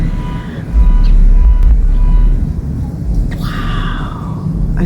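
A passing car plays loud bass-heavy music, a deep low-end throb that swells in strongly, holds, then fades as other traffic and faint tones carry on behind it.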